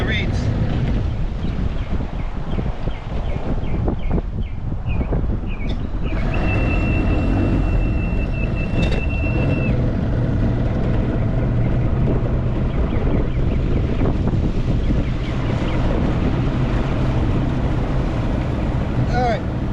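The outboard motor of a small boat idles on the water with an uneven hum under heavy wind buffeting, and a few brief whines and clicks come through.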